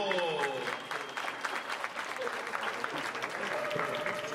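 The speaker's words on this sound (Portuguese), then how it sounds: "Uma salva de palmas" An audience at a stage hypnosis show claps in sustained, dense applause, with a voice talking over the crowd at the start.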